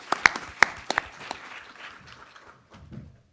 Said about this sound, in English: So just a round of applause to Sara.